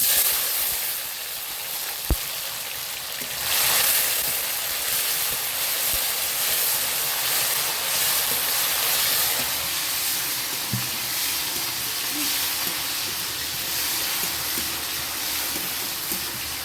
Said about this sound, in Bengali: এবার আমি চিনির উপরে দিয়ে দেবো কুচিয়ে রাখা টমেটোটা